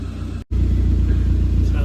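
Suzuki Jimny JB74 fitted with a performance exhaust, its engine giving a steady, loud low rumble that cuts out for an instant and then carries on evenly and close by.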